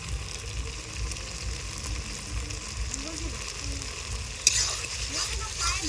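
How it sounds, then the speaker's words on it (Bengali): Spice paste with chili and turmeric being sautéed in a pan, giving a steady sizzle with light stirring and one brief clatter near the end. "হলুদ দিয়ে মশলাটা আবারও আমি ভালো করে কষিয়ে নেব।"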